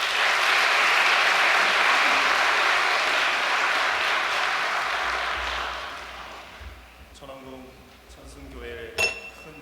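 Applause from a church audience honoring a pastoral affairs director, dense and loud for about six seconds, then fading into scattered claps, clinking and murmuring voices.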